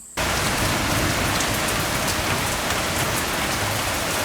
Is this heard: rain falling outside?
yes